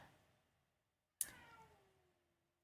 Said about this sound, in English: Cats.